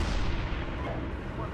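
A tank main gun fires in the Steel Beasts Pro simulator during a Danish platoon exercise, a loud, heavy boom that rolls into a sustained low rumble filling the whole moment.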